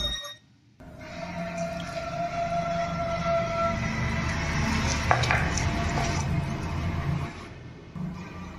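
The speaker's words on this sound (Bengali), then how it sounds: "এখন আমি মোচাটা বেটে নিচ্ছি।" Banana flower being ground into a paste for a Bengali mocha bata, a steady coarse grinding rumble that runs continuously and close by, with scraping undertones and a brief pause near the start.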